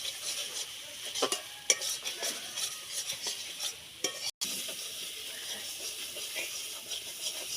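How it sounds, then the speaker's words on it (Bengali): A banana and potato fritter curry is stirred and fried in a pan. A soft, steady sizzle runs throughout, with scattered scrapes and clicks of the spoon against the pan. No one speaks. "এটাকে ভালো করে কষিয়ে নেব খুব সুন্দর করে"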